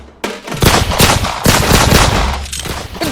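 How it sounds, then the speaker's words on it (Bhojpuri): Gunshot sound effects in a comedy sketch: loud, close bursts of rapid automatic gunfire starting abruptly and continuing in two long volleys with no talking. "गोली चलाओ ना"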